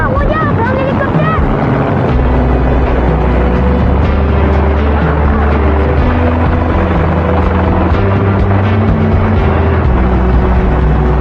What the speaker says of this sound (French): regarde, un hélicoptère!